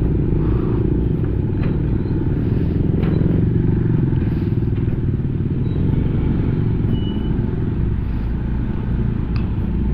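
A tricycle engine drives through a street in Agoncillo, Batangas, covered in mud after a typhoon flood, giving a steady loud rumble with scraping and clattering throughout.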